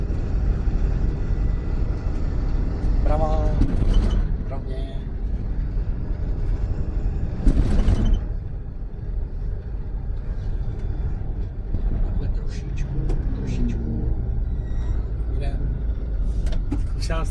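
Car driven by a blind driver on a course, engine and road noise running steadily with occasional louder bursts, people talking over it throughout.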